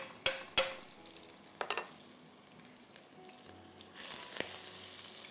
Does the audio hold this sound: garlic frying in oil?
yes